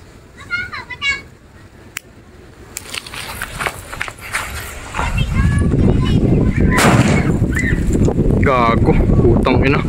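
Firecrackers being test-fired around New Year's Eve: loud, sharp blasts and crackling bursts outdoors that build into a dense, continuous barrage, with people's voices shouting nearby.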